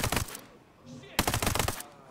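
Gunfire from a rifle limited to three-round bursts in Ghost Recon Breakpoint, two loud clusters of sharp cracks separated by a short lull, close and punchy.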